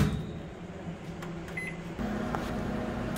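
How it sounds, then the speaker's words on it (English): A microwave oven hums steadily nearby, its drone shifting slightly partway through, with a few faint clicks. "I'm just going to put this in the microwave in 10-second increments"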